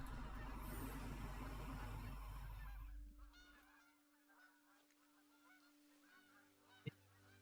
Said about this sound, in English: I hear some ducks.